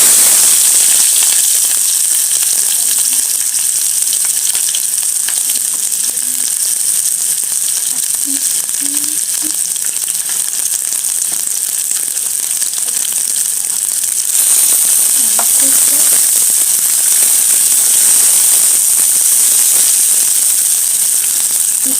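Onions hit hot oil in a pan for a tilapia wet fry, giving a loud, continuous sizzling hiss that stays steady and close with no talk.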